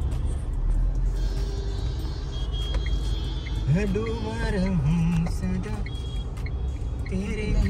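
Steady car engine and road rumble from inside a vehicle pulling away in city traffic, loud and continuous, with someone talking over it.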